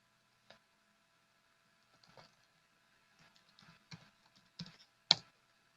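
Keys clack on a computer keyboard as a Linux command is typed, scattered quiet taps that quicken into a short, louder run near the end.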